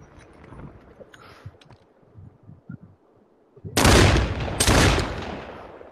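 Video game gunfire: after some faint low thuds and scattered small noises, two loud, broad blasts ring out near the end, each followed by a brief decay.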